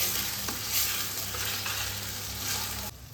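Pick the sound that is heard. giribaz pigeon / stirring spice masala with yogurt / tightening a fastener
stirring spice masala with yogurt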